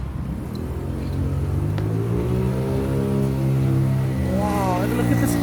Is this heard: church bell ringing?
no